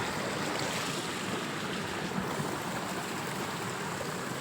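Water runs steadily through an irrigation channel in a wheat field, a continuous even rushing wash that stays close and unbroken throughout.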